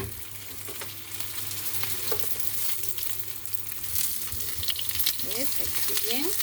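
Small amuse-bouche bites fry in a pan with a steady bubbling sizzle and a few sharp crackles and pops toward the end, close and moderately loud.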